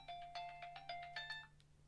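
A mobile phone rings with a repeated electronic chime pattern, several bright tonal pulses in steady rhythm, fairly faint against a quiet room with a low hum, fading out at the end.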